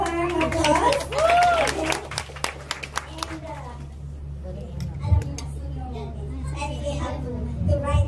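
Guests at a masquerade ball reunion in Las Vegas clap in a burst of applause over a low room hum. Voices talk and call out through the clapping, and it tapers off as a speaker takes over.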